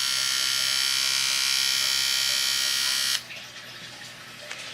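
Electric baby hair clippers buzzing with a steady high whine for about three seconds, then switching off, close and alone.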